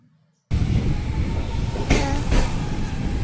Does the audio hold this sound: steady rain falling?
no